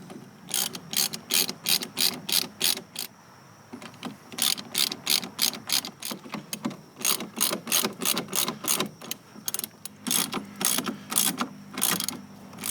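A socket ratchet tightens through-bolts on a Boston Whaler boat transom bracket, a loud, close, rapid clicking in repeated bursts of strokes with brief pauses between them.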